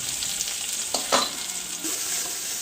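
Chilli, onion and tomato being stirred and fried in hot oil for a roti tarka, giving a steady close sizzle with a few brief scraping stir sounds, no voices.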